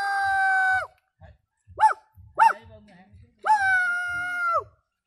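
A man imitates a dog howling at a distance, producing long wailing howls with short yelping sounds in between, all set over a faint rhythmic thumping.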